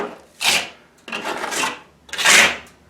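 Excess fresh plaster being trimmed off old 18th-century plaster in a repair job, three rasping scraping strokes in a row, close and fairly loud, no talking.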